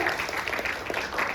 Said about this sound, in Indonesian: kasih tepuk tangan dulu buat Tuhan Yesus